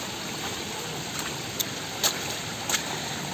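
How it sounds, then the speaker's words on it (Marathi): Water rushes steadily through a dense Sahyadri forest near Bhimashankar, a constant broad stream-and-waterfall roar with a few faint clicks breaking through. "घनदाट जंगल सोबत पाण्याचा आवाज, धबधब्यांचा आवाज"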